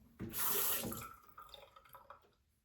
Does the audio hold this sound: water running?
yes